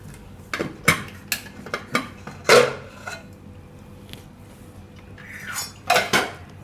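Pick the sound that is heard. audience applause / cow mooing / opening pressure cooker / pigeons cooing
opening pressure cooker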